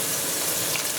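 Bacon sizzling in a hot pan for homemade mac and cheese, a dense, continuous crackling hiss heard up close and alone.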